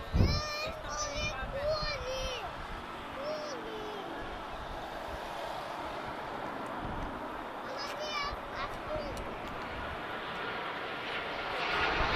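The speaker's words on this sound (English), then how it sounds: "just slipping in without me noticing there is a really gorgeous A320neo from Iberia" Iberia Airbus A320neo airliner at Lisbon Airport, a broad steady engine roar holding throughout at moderate distance, with birdsong and children's voices over it and a person speaking briefly.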